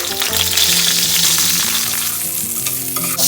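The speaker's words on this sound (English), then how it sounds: "When the oil is hot, we will add the pointed gourds and fry them until they are golden brown." Pointed gourds fry in a generous amount of hot oil for a Bengali yogurt-gravy dish, giving a loud, continuous crackling sizzle with occasional stirring, close up and with no talking.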